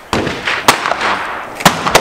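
Gunshots ring out at an outdoor shooting range with targets at 25 and 50 yards. Several sharp, loud bangs come at irregular intervals, with two especially strong cracks standing out from quieter reports.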